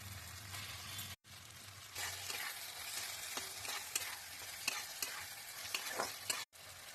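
Cut tomatoes with salt fry in oil with ginger-garlic paste and green chillies for chicken Patiala, giving a faint, steady sizzle with light stirring scrapes and two brief dropouts.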